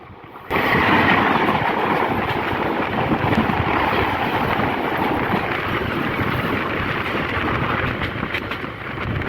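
The Karnaphuli commuter train, bound from Dhaka toward Chittagong, runs with a dense, steady rumble and rushing wind noise that switches on abruptly and holds loud and even.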